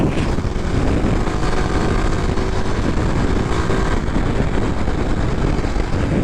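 A 2023 Kawasaki KLX 300SM motorcycle engine drones loudly and continuously on the road, its rumble mixed with heavy wind noise at close range.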